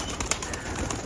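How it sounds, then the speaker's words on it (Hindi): Pigeons coo softly on the roof of a pigeon loft, a short low murmur of birds close by, with no talk. "यहाँ पर दोस्तों इतने ढेर सारे कबूतर अपने बाहर ही निकले हुए"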